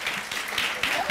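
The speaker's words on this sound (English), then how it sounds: "Applause." Lecture audience clapping briefly, a soft, fairly distant patter of applause lasting about a second.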